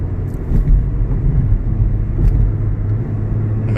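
A Mazda with a Skyactiv gasoline engine, checked for misfires and injector faults, gives a steady, loud, low engine rumble from inside the car as it drives under throttle.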